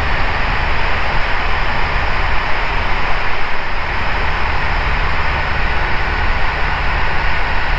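An Ikarus C42B light aircraft in flight through wind and rain, heard from inside the cockpit. Its engine and rushing air make a loud, constant drone that stays unbroken throughout, with no speech.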